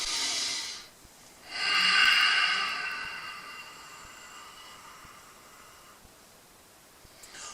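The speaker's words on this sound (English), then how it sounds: "I'll take a deep breath and go" A deep, forceful breath during a seated dynamic tension exercise, heard as a strong breathy hiss, then a short pause and a second long rushing exhale that fades gradually, close and quiet in a calm room.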